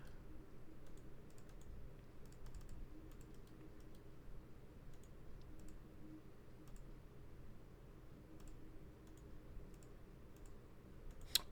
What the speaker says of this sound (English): You have to be really, really careful with the clicks.